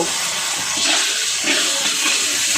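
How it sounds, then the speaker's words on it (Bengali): Water splashing and sizzling into spice paste frying in a pan, a steady hissing wash of sound throughout, close and fairly loud, with no talking. "সামান্য একটু জল দিব, দিয়ে মশলাটা কষে নিব"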